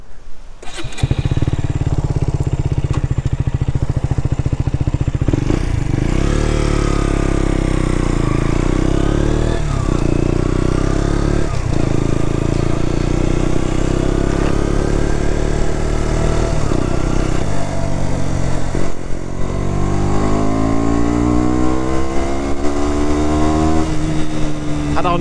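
A 15 hp KTM Duke motorcycle engine runs steadily and loud for the whole stretch, its pitch rising and falling as it revs and pulls away, with a few brief pops.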